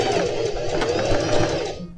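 A sewing machine stitches down the side seam of a pair of jeans being widened. It gives a continuous close, rapid mechanical whir for about two seconds, then tapers off at the end.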